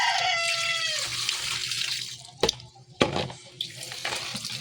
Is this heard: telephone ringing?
no